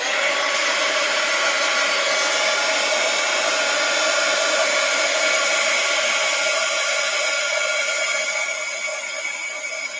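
A hair dryer blowing steadily on craft stencils, a loud, even whoosh held for the whole stretch with no talking.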